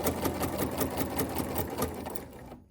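A domestic sewing machine runs steadily through fabric, its needle action producing a fast, even rhythmic chatter close by that stops abruptly near the end; no one talks.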